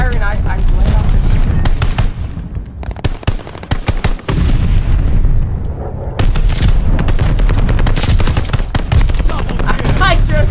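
Loud, close gunfire in the video game Call of Duty: Vanguard, with rapid automatic bursts and sustained firing broken by brief pauses, plus booming impacts, under intermittent voice.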